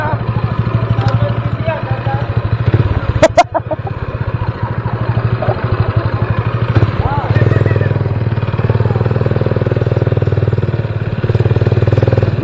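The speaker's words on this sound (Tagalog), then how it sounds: "malakasang motor." A stand-up scooter engine runs steadily close by during a group ride, its low throbbing rumble holding throughout with a brief clattery burst partway and a slight rise in revs near the end.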